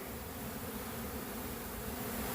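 Honey bees hum steadily around a stirred-up bee yard where a 10-pound swarm has settled. The dense, even buzz of many insects runs throughout at moderate distance, with no voices.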